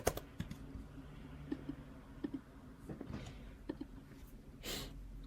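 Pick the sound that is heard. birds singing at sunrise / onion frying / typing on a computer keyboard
typing on a computer keyboard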